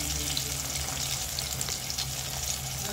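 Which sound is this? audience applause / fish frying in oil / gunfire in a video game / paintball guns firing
fish frying in oil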